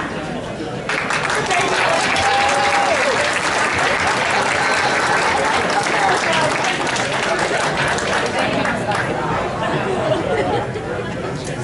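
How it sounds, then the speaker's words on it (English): Sustained applause from an audience at a 2017 motorsport track championship awards ceremony, loud and steady throughout with crowd chatter and scattered voices mixed in. "Somebody clap."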